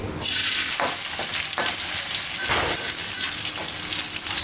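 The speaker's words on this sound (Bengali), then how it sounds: "তেল দিয়ে দিচ্ছি পেঁয়াজ দিয়ে দিচ্ছি" Onions go into hot oil and sizzle loudly and steadily, with a few stirring scrapes rising above the constant frying hiss.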